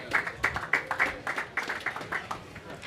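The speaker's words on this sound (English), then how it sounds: "Give a round of applause for Aaron" A small audience at a sneaker-culture panel claps for a few seconds, with sparse, distinct hand claps that thin out and stay fairly quiet throughout.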